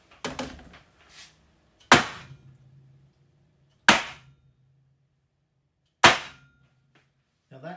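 A tray of piped mango macarons is banged on a kitchen counter four times, each a sharp loud crack with a short ringing tail, spaced about two seconds apart with silence between.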